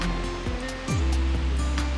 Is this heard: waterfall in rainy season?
yes